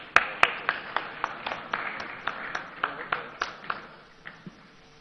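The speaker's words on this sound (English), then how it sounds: "A round of applause for the Malcolm Group." Scattered audience clapping at a CEO awards summit honouring the Malcolm Group, a handful of distinct claps in an uneven rhythm that thin out and fade toward the end.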